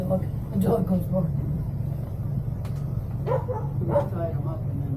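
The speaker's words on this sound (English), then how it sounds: "The dog goes barking." A strong dog on a rope barks in short bursts outdoors during a tour on Grand Turk, near and fairly loud over a steady background hum, with people talking nearby.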